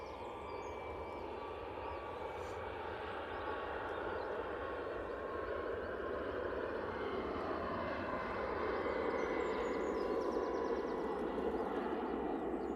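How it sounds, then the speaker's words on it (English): Ryanair Boeing 737 MAX 8 jet taking off from Manchester Airport: a broad, steady engine roar at a distance, gradually growing louder with a shifting tone as the aircraft passes. "Next out, Ryanair 737 MAX 8."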